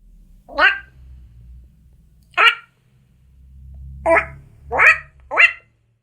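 A beatboxer imitates a cat's meow with the voice, giving five short, sharp, nasal meow-like bursts separated by pauses, close and clear over a faint low hum.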